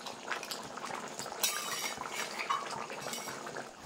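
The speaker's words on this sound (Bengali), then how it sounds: "সবকিছু মিশিয়ে নেব।" Fish kalia, a Bengali rohu curry, being stirred and mixed in a pan with a utensil scraping and clinking against the metal over a soft bubbling simmer, close and steady with no voices.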